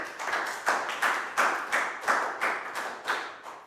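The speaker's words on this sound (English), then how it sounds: "Big round of applause." A Year 4 math class claps together in a quick, even rhythm, about eight sharp hand-clap bursts close by with no talking.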